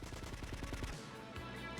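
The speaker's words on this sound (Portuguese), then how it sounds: "Olha o tiro. Abaixa o tiro." Rapid automatic gunfire in the PS2 video game GTA Vice City Stories rattles out in a quick burst of evenly spaced shots, fairly faint, then stops abruptly.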